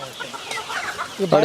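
Native country chickens cluck while feeding on a farm, a soft continuous scatter of hen calls with a louder, closer burst of clucking near the end.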